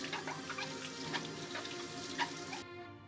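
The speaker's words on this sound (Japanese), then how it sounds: "最後に流水で洗い流して完了です" Tap water running steadily into a sink while apples are rinsed under the stream, a close continuous gushing splash with small irregular spatters that cuts off abruptly near the end.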